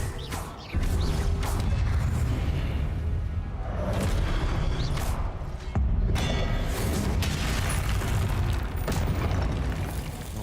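In a Hogwarts wizarding video game, an Accio spell goes off as a dense, booming magical burst with rumbling low energy and sharp cracks, loud and continuous for several seconds.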